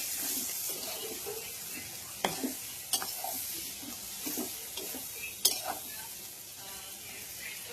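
Onions hit hot oil that was heated first for cooking fish and potatoes, giving a steady close sizzle with a few sharp clicks and stirring scrapes. No one speaks.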